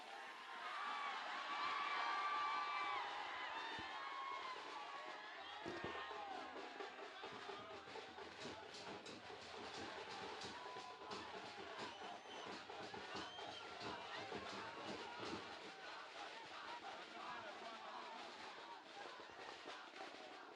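A large crowd at a Telugu film event cheers, shouts and whoops continuously, loud and dense, with scattered bursts and claps, while someone speaks over the din into a microphone.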